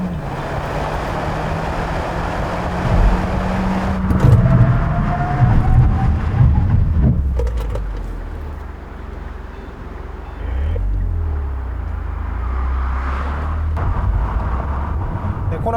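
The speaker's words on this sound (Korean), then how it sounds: "코나의 제동 성능도 확인해 보겠습니다." Hyundai Kona 1.6 turbo SUV on 18-inch wheels braking hard from 100 km/h, heard from inside as steady road and engine rumble drops away into a low, fading drone, with faint voices in places.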